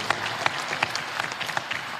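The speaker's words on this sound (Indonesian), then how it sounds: "tepuk tangan dulu buat Reguse" Audience applause at a provincial final of a school quiz competition on national pillars, a short burst of dense close clapping from a crowd with a few sharper claps standing out.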